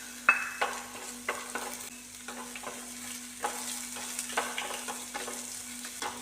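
Spring onion stalks sautéing in a pan, a steady low sizzle broken by repeated scraping stirs and small clicks of a spoon.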